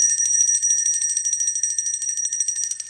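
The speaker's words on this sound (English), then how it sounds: "Ring the bell on that." A rapid bright bell ring, a sound effect, trills continuously for about three seconds at a steady, loud level with no other sounds.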